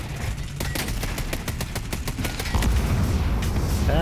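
Rapid automatic gunfire in the video game Ghost Recon Breakpoint, a steady stream of sharp repeated shots over a low rumbling combat background, growing heavier toward the end.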